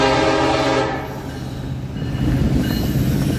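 A freight train returns past Point of Rocks with a loud horn blast up front, then its rumble and rolling wheel noise carry on close by.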